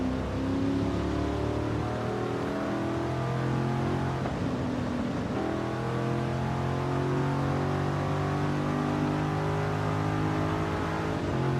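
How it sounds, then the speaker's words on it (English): A stock-exhaust car engine in Forza Horizon 5 revs steadily and loudly, its layered harmonic drone holding throughout with a brief dip and recovery partway through. No one speaks over it. "This car sounds so good. And this is the stock exhaust."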